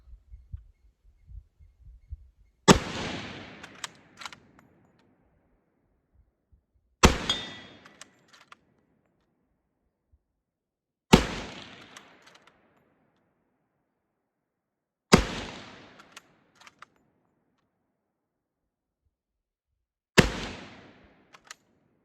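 Five loud, sharp gunshots from a Berthier M1916 carbine, spaced about four seconds apart, each with a decaying echo, and small clicks of bolt handling between shots.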